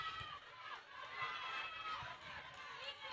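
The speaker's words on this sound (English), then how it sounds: "Listen to the crowd in the background." Crowd noise fills an indoor netball match between Saint Vincent and the Grenadines and Grenada: a steady, lively murmur of spectators with scattered shouts, heard at a moderate distance.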